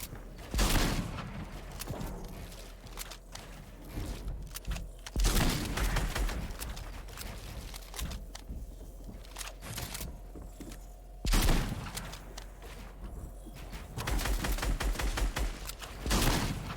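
Gunfire in the video game Fortnite during an online match, bursts of rapid shots arriving in several loud clusters separated by quieter gaps.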